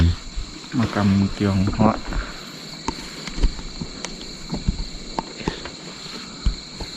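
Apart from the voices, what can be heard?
crickets chirping at night in a Chinese cemetery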